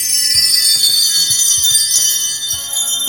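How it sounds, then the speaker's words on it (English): Set of hanging metal chimes struck for Christmas percussion, a bright shimmering wash of high ringing tones with soft repeated strokes underneath, steady and close with no talking. "Got some chimes up here."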